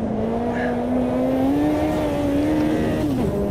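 Race car engine in the video game Automobilista 2, a loud steady drone rising slightly in pitch, then dropping sharply with a downshift near the end.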